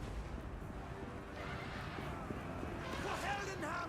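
Gunners firing in a Total War: Warhammer 2 battle, faint distant pops and bursts of gunshots spread across a noisy battlefield background with voices.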